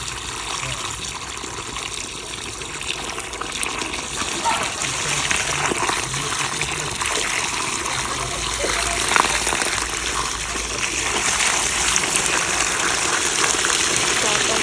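Water from a pipe gushing steadily into a snake burrow, a loud continuous rushing and splashing flow with faint voices beneath it.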